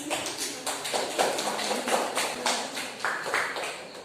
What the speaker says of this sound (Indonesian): Tepuk tangan untuk Mas Kafa